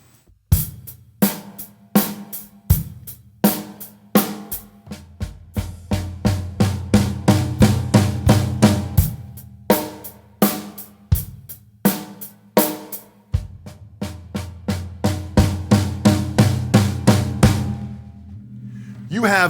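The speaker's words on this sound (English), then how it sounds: "adding that groove and adding that fill would kind of sound like this." Drum kit playing a 3/4 groove with a fill, kick and cymbal accents marking each bar, tom and snare runs building up between them, loud and close with no talking.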